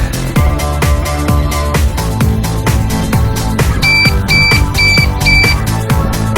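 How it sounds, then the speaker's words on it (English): Shock alarm tested beside the Ballard Locks on Salmon Bay in Seattle, giving four short repeated high beeps near the end over a loud rhythmic music track with steady beats. "Test the shock alarm each time before you use it."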